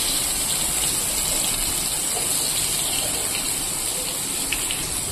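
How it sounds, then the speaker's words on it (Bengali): Nutrela soya chunks fry in hot oil with a loud, steady, close sizzling hiss that holds unbroken throughout, with faint crackles scattered through it. "এবার আমি নিউট্রেলাটাকে এখানে ভেজে নেব।"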